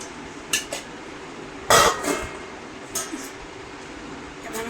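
Utensils clink and scrape on a plate as rice is served, a few brief clatters over a quiet room hum, with a voice talking in the background.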